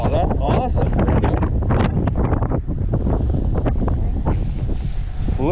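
Strong, cold wind buffets the microphone in a loud, steady roar during wet weather outdoors, with people talking and calling out over the gusts.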